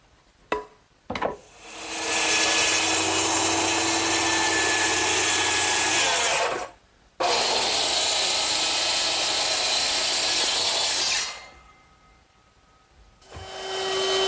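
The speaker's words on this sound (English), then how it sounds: "now that I've cut one, I can use it as a pattern to cut the remaining 3" A power saw makes 45-degree angle cuts in a 1x12 board: two long, loud, steady cutting runs split by a brief pause, with short quiet gaps at the start and end.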